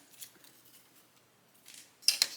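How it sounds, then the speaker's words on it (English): Backing paper peeled off adhesive sheet on a wooden laser-cut daisy flower, with faint crinkles early on, then two sharp, close tearing rips near the end, no talk. "All you have to do is peel off the backing like this"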